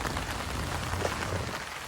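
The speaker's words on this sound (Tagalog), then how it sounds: "Tapos, umuulan eh" Steady rain falling on a surface nearby, a dense, even hiss of drops with no pauses and no voices.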